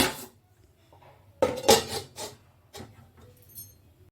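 A metal lid is lifted off a cooking pot of simmering vegetables, giving a loud close clatter and scrape of metal on metal, followed by a few lighter clinks and rubbing sounds in a quiet kitchen.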